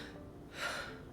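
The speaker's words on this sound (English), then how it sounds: "if I breathe like the way that most people breathe without activating my diaphragm" A single shallow breath drawn in without engaging the diaphragm, a soft airy inhale rising briefly in the middle and fading, close and quiet with no talk.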